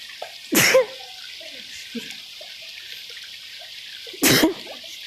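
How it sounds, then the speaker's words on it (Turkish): Two sharp sneezes, one early and one near the end, separated by quiet rustling and faint dripping water. "Hapşıracağım arkadaşlar kusura bakmayın."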